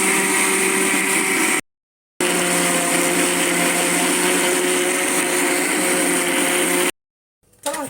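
A kitchen blender whirs steadily while beating cake batter of flour and baking powder, a loud continuous motor drone that cuts out briefly, restarts, then stops again.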